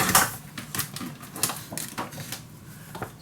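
Paper being cut for a scrapbook mini album, giving a series of crisp snips and rustling clicks in an irregular rhythm, close and fairly quiet with no talking.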